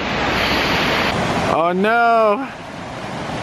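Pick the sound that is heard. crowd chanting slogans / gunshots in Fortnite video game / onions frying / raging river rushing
raging river rushing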